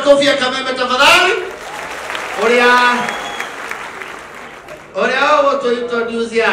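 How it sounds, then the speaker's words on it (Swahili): An audience at a gathering with a bishop bursts into applause that swells and fades, while a voice speaks or calls out over the clapping for much of the time. "Kelele ya makofi ya Kameme tafadhali."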